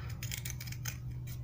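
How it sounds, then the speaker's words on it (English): Scissors snipping through a scrap piece of circuit board meant for fishing lure bills, a close, steady crunching and cutting run with repeated bright bursts and no voices. "You can use scissors"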